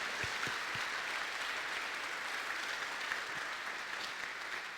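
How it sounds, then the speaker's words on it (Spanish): Church congregation applauding for a visiting pastor couple, steady broadband clapping filling the room throughout with no talk over it. "Un aplauso al Señor por la vida de ellos, por favor."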